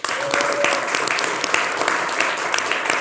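A studio audience at a French political talk show applauds continuously, a dense steady clapping that holds for a few seconds.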